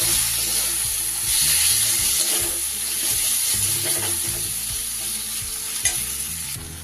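Chopped tomato frying in spice masala for a Gurjali fish curry, a steady loud sizzle with stirring scrapes in the pan throughout, no voices.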